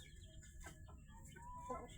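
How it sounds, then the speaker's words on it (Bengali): Native chickens on a farm cluck and murmur faintly in the background, with a couple of brief higher calls rising near the end over a low, steady outdoor hum. "এই সব দেশি মুরগি,"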